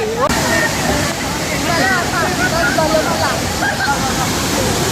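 The Palasdari waterfall gives a steady, loud rush of falling water throughout, while a voice talks over it close by.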